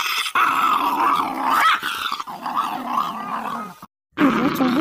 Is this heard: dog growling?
yes